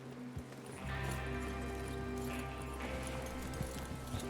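Horses in the video game Red Dead Redemption 2 snort and whinny, followed by clip-clopping hooves over a low rumbling background, fairly faint and slightly distant.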